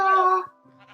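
A sheep in a video game, kept in a small farm pen beside a pig, gives a single loud, close, wavering bleat that trails off, followed by quieter tonal game sounds.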